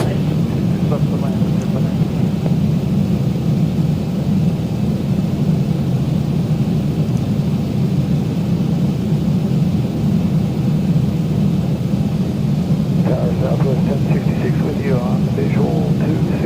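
Steady loud engine roar of an aircraft during takeoff in the X-Plane flight simulator, a Kalitta Charters flight from Havana to Fort Lauderdale, a constant low drone throughout with someone talking over it.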